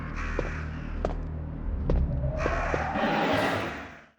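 Crows caw in the 1996 Resident Evil game, harsh calls rising over a dense, droning ambient soundscape, with a few sharp accents and a brighter hiss swelling near the end.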